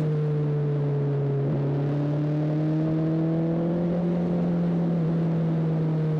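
A Honda CB 1300 Super Four motorcycle engine drones steadily, climbing gradually in pitch as it accelerates, loud and close, with a continuous whirring hum throughout.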